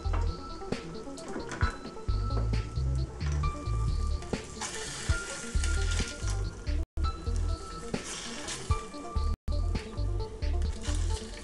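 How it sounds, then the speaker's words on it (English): An egg sizzles in hot butter, a constant crackling fry broken by clanks of utensils and short low bumps. "now that we have more sizzling butter in the pan"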